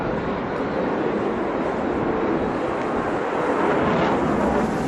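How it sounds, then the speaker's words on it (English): A plane takes off into fog with a steady, loud, broadband engine roar that holds throughout and builds slightly near the end. "This plane looks like it disappears when taking off into the fog."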